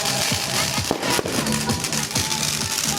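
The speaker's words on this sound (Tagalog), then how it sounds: "Ayan, paputok na sila doon." Fireworks go off in the distance during a New Year celebration, producing a dense, continuous run of pops, bangs and crackles. Voices can be heard faintly underneath.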